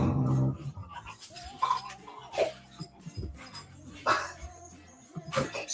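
Two dogs wrestling at play indoors, with yips, whimpers and short barks over scuffling and panting, close and fairly loud in irregular bursts.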